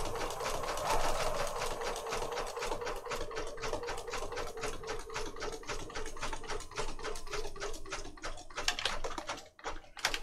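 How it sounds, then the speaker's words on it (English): Sewing machine stitching through a file folder journal, a fast steady run of needle strikes with a brief reverse stitch, close and continuous, pausing near the end. "Just a little reverse stitch there, just to lock it in."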